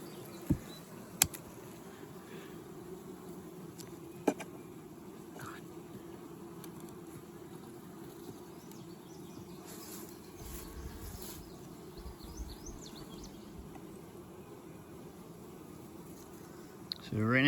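Russian honey bees hum in a steady low, dense buzz inside an opened nuc hive, continuous and fairly quiet, with occasional clicks and knocks from handling the frames.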